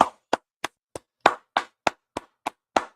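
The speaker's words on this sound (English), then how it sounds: "Y'all go ahead and clap it up" Ten sharp, evenly spaced claps ring out one at a time at a steady rhythm, each crisp and isolated against silence, rather quiet overall.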